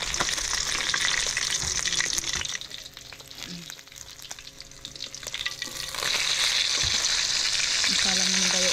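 Fish frying in a pan gives a steady close sizzle that drops quieter midway, then swells loud again, with occasional clinks and a few soft words from a man.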